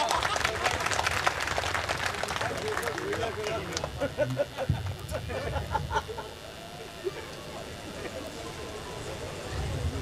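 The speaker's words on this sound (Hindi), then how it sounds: "एक बार ताली बजाओ जोरदार" Loud applause from an audience at a devotional satsang gathering, dense clapping strongest over the first few seconds then thinning, with voices mixed in.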